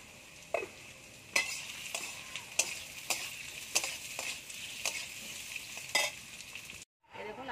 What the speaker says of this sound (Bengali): আমি আলুটা ভেজে নেব।